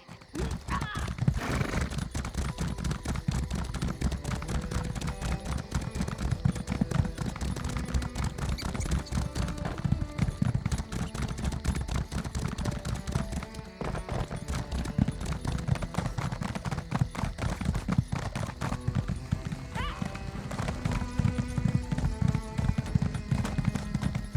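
Horse hooves clip-clop at a steady riding rhythm in Elder Scrolls Online: Blackwood, a continuous close run of rapid hoofbeats lasting throughout, with brief speech over it.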